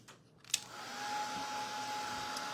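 A hair dryer dries paint on fabric. A brief click is followed by a steady, close blowing whir that continues evenly to the end.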